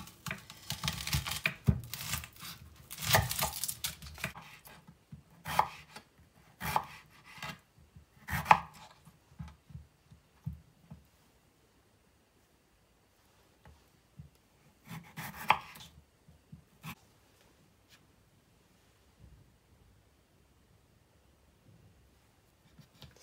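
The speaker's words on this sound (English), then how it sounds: "And then you don't need to see me chopping this." Knife chopping Scotch bonnet peppers thinly on a board for a sweet and sour pickle, a fast run of close, crisp cuts with pauses, then a few scattered later bursts and quiet gaps.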